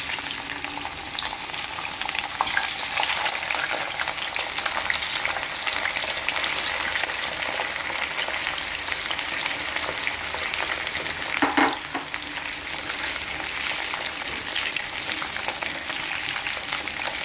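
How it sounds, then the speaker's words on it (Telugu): Ivy gourds frying in hot oil for a masala curry, a steady broadband sizzle with occasional stirring scrapes, fairly quiet and continuous with no talk. "ఆయిల్ వేడైందండి. ముందుగా దొండకాయలు వేయించుకోవాలి."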